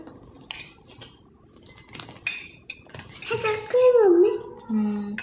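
Toy plates and dishes clink and clatter in short, bright knocks during a child's play cooking, close and fairly loud, with someone speaking over the sounds.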